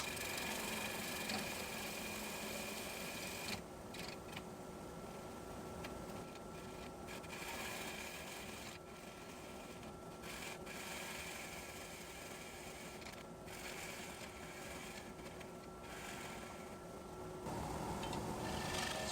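Wood lathe spinning an ambrosia maple bowl as the center nub is cut away, a steady whirring hum with faint tool scraping that holds evenly for the whole stretch, fairly quiet and with no talk.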